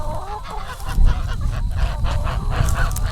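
A flock of laying hens in a grassy poultry yard makes dense, continuous clucking and honking calls, loud and close, with overlapping voices and no clear speech.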